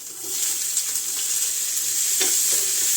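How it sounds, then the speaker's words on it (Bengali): Onion and black cumin sizzling in hot oil for spicy mustard eggplant, a loud continuous bright hiss close up with a couple of faint scrapes, no talk. "পেঁয়াজটাকে এখন একটু লাল করে একটু ভাজতে হবে"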